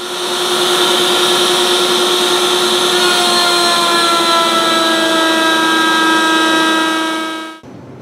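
Power saw making a straight through cut in plywood for a sliding dovetail, a steady loud whining tone with sustained harmonics that holds for about seven seconds and then stops abruptly, with no voices.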